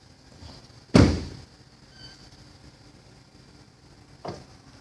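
A Cadillac Escalade door shuts with one solid close thud, followed by quiet ambience and a softer second knock near the end.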